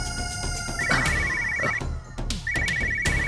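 A phone ringtone plays in two bursts of a repeating electronic melody, loud and close, set against background sound in a Tamil TV drama scene.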